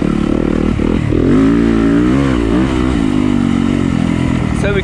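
Yamaha YZ250FX four-stroke dirt bike engine revving loud and close, with rising and falling pitch sweeps over a steady rumble, while a voice talks over it.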